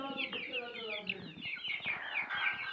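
Several aseel chickens cluck and chatter continuously at close range, with an injured chick among them, steady overlapping calls filling the moment.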